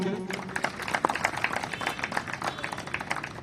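Audience applause at a memorial ceremony honouring the families of fallen soldiers, a steady patter of many hands clapping at moderate volume across the whole stretch, with faint voices mixed underneath.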